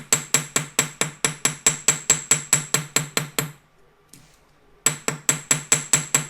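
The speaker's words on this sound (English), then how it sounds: "And flip it over and hammer it on the other side as well" A small hammer strikes a metal leaf pendant for an autumn leaf necklace in quick, even blows, about fourteen crisp taps, then a short pause and another steady run of strikes, close and clear.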